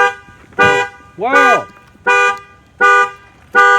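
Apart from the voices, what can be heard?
car alarm going off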